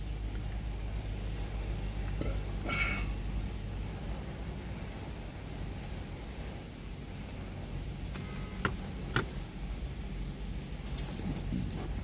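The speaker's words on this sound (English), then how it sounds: "And where the hell's my keys?" Keys jangle in a few brief metallic bursts over a low, steady rumble of background noise, quiet and somewhat distant, with no voices.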